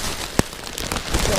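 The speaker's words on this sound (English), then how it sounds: "It's raining too hard." Heavy rain pours during a storm while someone fishes for bass from a boat, a dense close hiss of drops striking a surface, with a sharp tap near the start.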